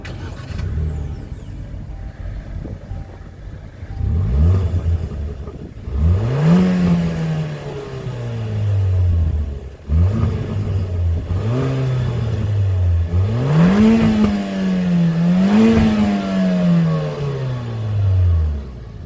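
A 2021 Kia Forte GT with a stick shift revs its engine up to 6,500 RPM in repeated rising pulls, each climbing in pitch then falling back, loud and close with no talking over it.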